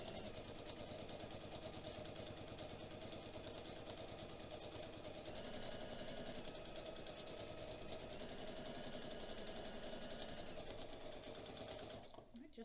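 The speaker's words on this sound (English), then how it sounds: "I'm just sewing over these poor little swimmers' backs as I'm going across here." A sewing machine stitches across a decorative pillow case in a fast, even mechanical whir, with a short change in pace midway and a soft stop at the end; talk is faint beneath it.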